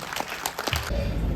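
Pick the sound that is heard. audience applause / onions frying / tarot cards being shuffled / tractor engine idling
audience applause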